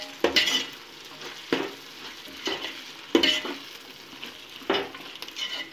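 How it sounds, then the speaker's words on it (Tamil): Chicken biryani masala with mint and coriander stirred in a pot, four or five distinct ladle scrapes against the metal over a soft sizzle, close and alone. "கூடவே கொத்தமல்லியை போட்டுட்டு நல்லா மிக்ஸ் பண்ணி விட்டுக்கலாம்."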